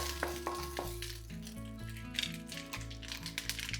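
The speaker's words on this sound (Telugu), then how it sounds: "ఆవాలు ఎండుమిరపకాయలు వేసి ఒకసారి" Mustard seeds and dried red chillies sizzling in hot oil in a pot, a crackling sizzle with popping seeds under steady background music.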